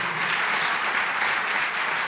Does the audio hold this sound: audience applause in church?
yes